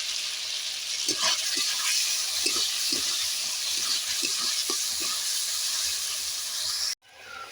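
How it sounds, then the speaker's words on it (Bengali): Fried taro pieces drop into a pan of sizzling masala, setting off a steady loud hiss of frying. Soft stirring taps repeat through it, and it all cuts off abruptly near the end. "এবার আমি যে ভেজে রাখা কচুগুলো দিয়ে দিচ্ছি"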